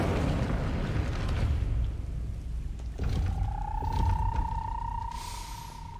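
An Incendio fire spell cast in Hogwarts Legacy: a deep whooshing burst followed by a sustained tonal hum, heard alone over low rumbling game ambience.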